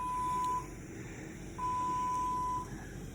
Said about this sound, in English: Y'all hear that beeping?